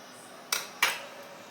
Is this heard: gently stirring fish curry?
yes